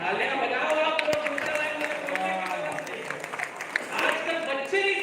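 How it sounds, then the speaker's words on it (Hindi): Audience applause at a Hindi comedy poetry gathering in a Jain hall: a dense, steady patter of clapping throughout, with voices mixed in. "तालियां बजाओ आप लोग।"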